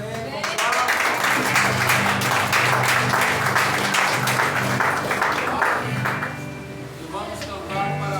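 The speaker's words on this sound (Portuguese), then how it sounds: "Vamos aplaudir ali a Edilene" Church congregation applauding a member named Edilene during a Lord's Supper service, a full round of clapping with a voice talking and tonal sounds over it, tapering near the end.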